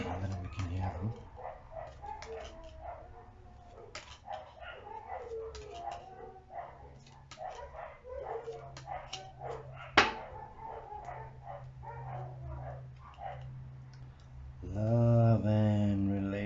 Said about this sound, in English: My neighbor's dogs are so irritating.